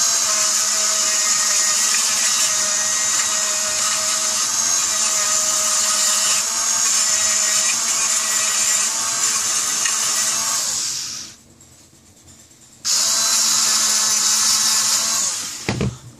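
A power sander running steadily and loudly on the body of a Tippmann A5 paintball gun being built into an HK G3 replica, with a brief drop in level as it pauses before resuming.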